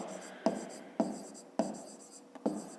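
A pen writing by hand on paper during a fifth-grade maths exercise makes quiet, scratchy strokes, with a sharper tap about every half second, in otherwise near-silence.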